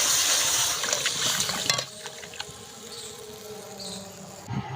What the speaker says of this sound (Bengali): আমি এবারে এই মশলাতে দিয়ে দেবো জল।